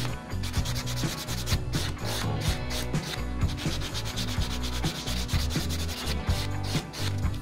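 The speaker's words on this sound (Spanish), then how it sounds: "No les está raspando mucho la uña" A buffer block rubs steadily over an acrylic powder nail, giving a continuous rapid scratchy sanding sound, close and loud, with quick back-and-forth strokes and no talking.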